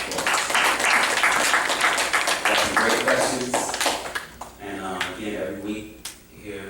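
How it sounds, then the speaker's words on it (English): Clapping from a class audience at a question-and-answer session, loud and dense at first, then thinning into scattered separate claps as it fades, with a voice starting to talk over the tail. "Give yourselves a big round of applause."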